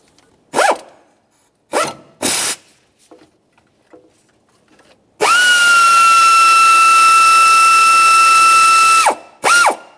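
A power ratchet spins out the engine mount through bolt on a 1994-1997 Honda Accord, with a few short bursts followed by one long, loud whirring run and a final quick burst, close up and without talk.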